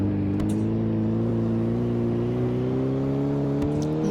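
A car drives and revs in the Roblox game Car Flipper, a steady droning engine tone that rises slightly in pitch, continuous and close with no pauses.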